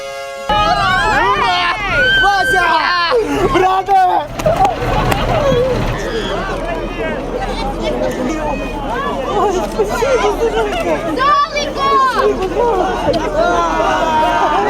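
A crowd of relatives greeting soldiers of the 128th brigade arriving at a military unit in Mukachevo at dusk, with loud continuous shouting and cheering close by, excited voices calling out over one another.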